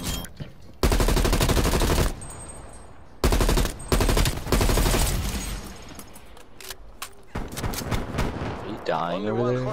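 Loud bursts of automatic gunfire and blasts from a Call of Duty: Black Ops Cold War multiplayer match fill the clip in long sustained volleys with brief gaps, ending in quieter game sounds.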